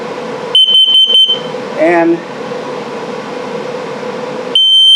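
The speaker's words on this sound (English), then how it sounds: "that is the low battery alarm. So if it beeps real slow like that, it's telling you your battery's low" A carbon monoxide and LP gas detector in a 2021 Forest River Flagstaff 26FKBS trailer gives a low-battery alarm: four quick, shrill beeps, then a pause with a steady fan-like hum and a brief voice, then another beep.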